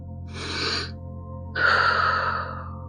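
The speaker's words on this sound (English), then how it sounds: "So take a deep breath." Two close, audible breaths during a guided breathing exercise: a short airy intake, a pause, then a longer, louder deep inhale through the nose and mouth.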